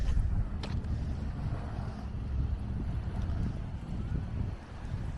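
Wind gusts by a lake in Maine's Rangeley Lakes region, buffeting the microphone with a continuous low roar that rises and falls over faint water sounds.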